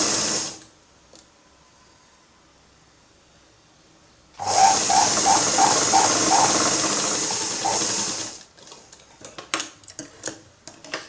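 A sewing machine stitching a blouse runs in two bursts: a short one, then a longer stretch of rapid mechanical whirring and clatter. Quiet gaps and some handling clicks come between and after them.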